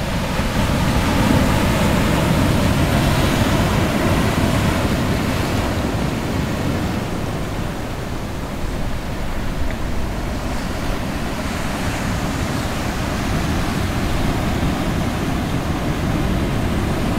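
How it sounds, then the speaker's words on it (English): Ocean waves break on a Hawaiian shore on Molokai's west side with a continuous loud roar and wash, and wind buffets the microphone throughout. "Yeah, these waves are very nice,"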